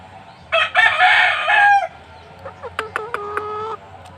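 A three-month-old Sweater Kelso gamecock rooster at a small breeder's yard in Anda, Bohol, crows loudly and close by in one long cock-a-doodle-doo, then lets out a few shorter clucking calls.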